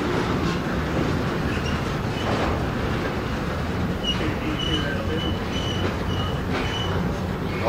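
A BNSF freight train rolling past in Rochelle, Illinois, a loud continuous rumble of wheels on rail with faint squeals and clatter, steady and close throughout.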